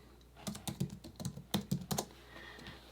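Keys clatter on a computer keyboard in a quick, quiet burst of taps in two short runs, close to the microphone in a still room, with no talking.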